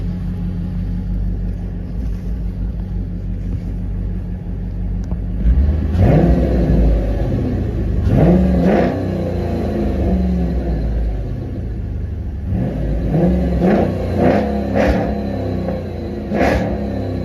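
A Dodge SRT8 engine idles with a deep, steady rumble, then revs hard several times in a row, each loud surge climbing and falling back, with no voices.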